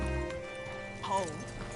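Horse hooves clip-clop faintly in a Red Dead Redemption game scene, a short quiet stretch of hoofbeats with a brief whinny-like tone and low background music.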